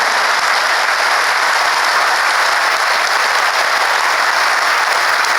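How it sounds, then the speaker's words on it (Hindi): Steady, dense applause from a large crowd at an outdoor religious pilgrimage gathering, loud and unbroken, clapping for a mother. "उस माँ के लिए भी एक बार ताली होना चाहिए"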